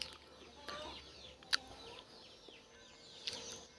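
A grazing hen clucks softly in short, quiet calls with a few sharp chirps, faint and somewhat distant against a calm background.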